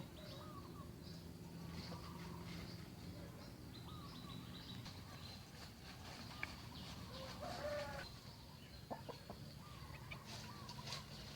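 Chickens cluck and murmur at a distance on a rural Thai farm in the morning, soft scattered calls over a steady outdoor hum, with no talk.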